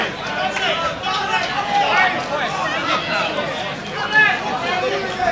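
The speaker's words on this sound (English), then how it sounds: "Crowd are on their feet for this one right now." Crowd at a Cage Legacy 7 cage fighting event, a continuous roar of cheering and shouting voices with swelling peaks, fairly loud and close throughout.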